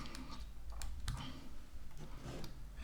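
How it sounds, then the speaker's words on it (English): A computer keyboard is typed on in a short burst of close keystrokes, uneven in rhythm, with no talk over them. "So I'm going to type in circle."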